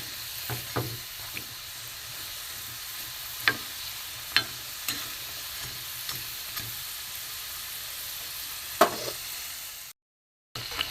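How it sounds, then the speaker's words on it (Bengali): Mung dal puli pitha deep-frying in oil, a steady sizzle and crackle with scattered sharp pops from stirring or turning, close and moderately loud, no voices, with a short silent gap near the end. "লাল করে ভাজা হয়ে গেছে"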